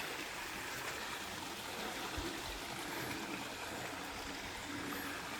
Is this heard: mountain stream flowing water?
yes